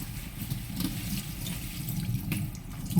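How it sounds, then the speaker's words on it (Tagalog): Tap water runs over plastic meat packaging in a sink, a close, continuous splashing rush with small uneven spatters as the container is rinsed. "Hugasan ko muna to bago ko itapon sa basura para hindi anuhan ng mga maggots ba."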